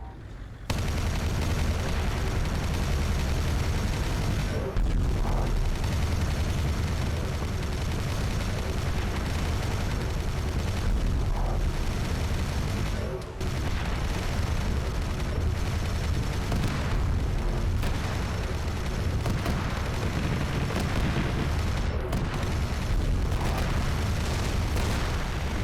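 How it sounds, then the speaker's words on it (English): Heavy battle cannon fire in a Warhammer 40K video game, a dense, booming barrage with repeated loud blasts over a constant rumbling din. "that was a battle cannon round"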